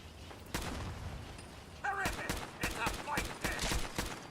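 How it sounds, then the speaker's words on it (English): Gunfire in the video game Fallout 4 cracks out in several sharp bursts, with distant rapid shots and scattered single reports over a steady noisy game backdrop, with other game sounds mixed in. "I can hear gunshots off in the distance."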